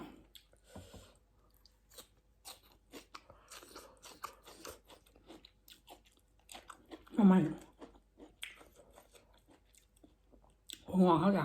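Close, wet crunching and chewing while eating spicy Thai mixed seafood papaya salad, coming in irregular bites with louder bursts near the end, mixed with talking in Thai.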